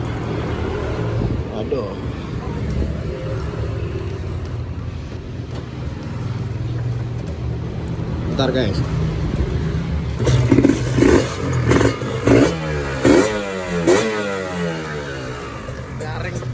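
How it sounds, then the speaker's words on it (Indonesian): A Kawasaki Ninja RR 150 two-stroke motorcycle, rebuilt after an engine failure caused by wrong oil, idling with a low steady engine note, then revved repeatedly in sharp bursts, close by, with someone briefly talking over it. "Jadi ini dia suara dari motornya guys ya."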